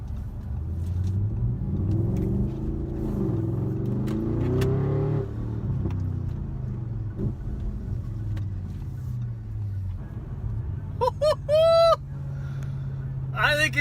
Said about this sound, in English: So here's a little bit interior sound, just me pulling away, driving around.